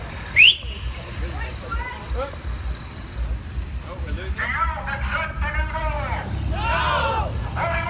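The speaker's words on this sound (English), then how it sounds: "Was that your whistle?" A whistle shrills sharply once near the start amid a street protest crowd, with people chanting and shouting loudly over traffic noise afterward.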